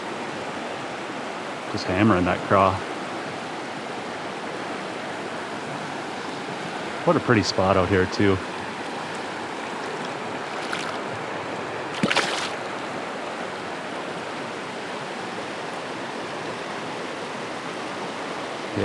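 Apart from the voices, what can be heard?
river flowing while wading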